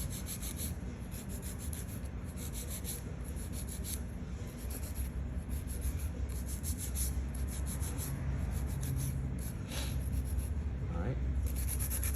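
Continuous rasping scrape of a nail file working acrylic nails, steady back-and-forth strokes running close and fairly loud for the whole stretch, with no talking.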